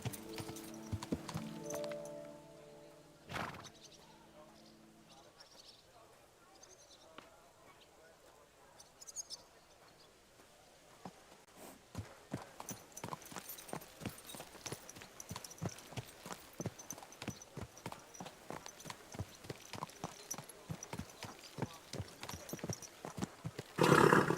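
Hooves of a horse in the video game Kingdom Come: Deliverance II clip-clop in a steady, quickening rhythm that grows louder, after a few quieter thuds and tones at the start.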